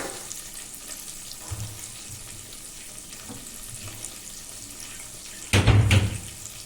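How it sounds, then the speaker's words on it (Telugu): Fenugreek seeds, green chilies and curry leaves frying in oil for a raw banana pulusu, a low continuous sizzle with a few faint stirs and a louder burst of crackling near the end, with no talk. "పచ్చిమిరపకాయలు ఒక 4-5 వేసుకోండి. కరివేపాకు కూడా వేసుకొని వేయించుకోండి."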